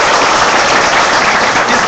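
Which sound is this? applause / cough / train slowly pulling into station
applause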